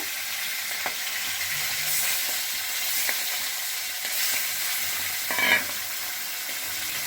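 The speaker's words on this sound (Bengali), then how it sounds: "এবার যে বাকি মাছটা আছে এই মাছটাও আমি ভেজে নেব।" Pona fish sizzles steadily in hot oil, a close, even hiss broken by a few soft scrapes and clinks of stirring.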